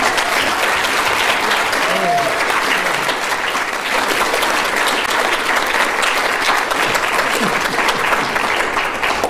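Sustained applause from a conference audience at a blogging challenge event in the Asia Pacific, dense and steady clapping that fills the whole stretch without pause.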